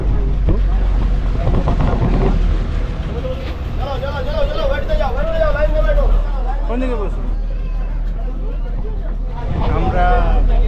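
A passenger boat to the Elephanta Caves pulls up at the dock, its engine rumbling low beneath steady wind noise on the microphone and a crowd of people talking nearby.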